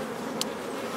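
Honeybees at a hive building toward swarming give a dense, continuous buzzing drone, close and steady through one brief second.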